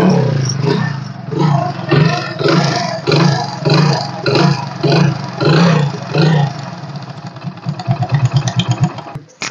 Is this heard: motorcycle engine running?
yes